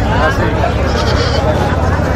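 Goats bleating amid a crowded livestock market (haat) in Patgram, with broadband crowd babble and talk throughout; the animal calls are close but partly buried under voices and market noise.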